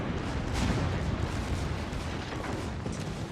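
Rapid secondary gun batteries firing aboard a warship in World of Warships, a dense, continuous rumble of overlapping blasts with no clear gaps, loud and sustained throughout.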